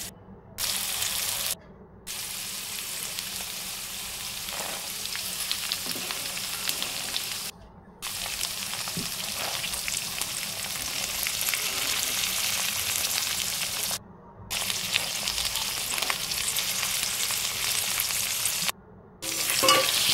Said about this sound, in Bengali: এই ছোলাগুলোকে আমি একটু ভালো করেই ভেজে নেব।